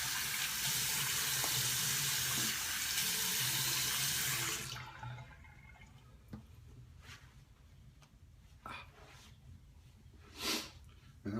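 Warm tap water runs into a sink for rinsing after a 1970s-style shave, a loud steady rush that cuts off midway, followed by quieter splashes and breaths.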